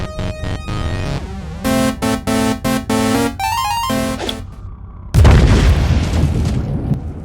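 A grenade explodes in the Warhammer 40k Inquisitor Martyr video game. Game tones and pulsing beats play first, then a sudden loud blast is followed by a rumbling, crackling tail.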